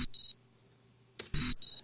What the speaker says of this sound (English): and we get a little beep.